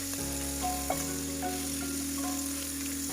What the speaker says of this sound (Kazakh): құйрық майды қуырылып жатқан сәтте